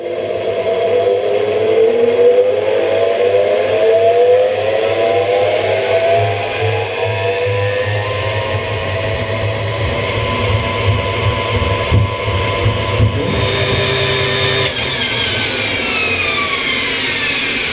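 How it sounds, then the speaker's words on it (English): An electric honey extractor spins beehive frames at high speed, a steady droning motor whine that rises and shifts in pitch as it runs, continuous and fairly loud for the whole stretch. "When the electric motor is switched on, the frames are spun at high speed."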